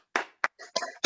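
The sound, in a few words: applause on an online call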